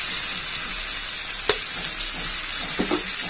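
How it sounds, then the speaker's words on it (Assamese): Pre-fried potatoes fry with masala in a pan, keeping a steady sizzle while a spoon stirs them, with a couple of sharp scraping clinks. "আৰু এতিয়া 5 মিনিটমান এইখিনি ধুনীয়াকৈ ভাজি ল'ম, এনেকৈ লৰাই লৰাই।"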